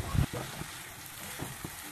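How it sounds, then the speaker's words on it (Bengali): Onion paste frying in hot oil in a pan, giving a soft, steady sizzle with a couple of faint knocks near the start. "দিয়ে ভালো করে পেঁয়াজটাকে আমি ভেজে নেব।"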